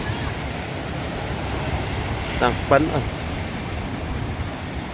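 River waves at Infanta Quezon splash and roar in a steady broadband wash, with a couple of quick louder splashes near the middle and a voice talking over the water.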